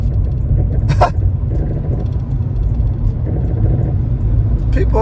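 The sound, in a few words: cars driving past on the road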